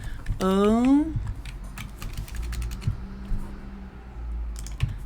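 Rapid key clicks from typing on a computer keyboard, close and steady, partly under a brief voice and low room hum.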